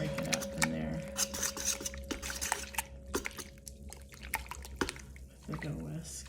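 A dough whisk breaks up a floating sourdough leaven in water, giving wet dripping and sloshing sounds with a faint ringing tone, while a person talks over it.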